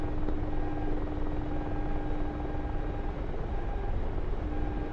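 A Mi-24 Hind attack helicopter in the DCS combat flight simulator gives off a steady, unbroken rotor and engine drone at an even loudness, heard alone without voices.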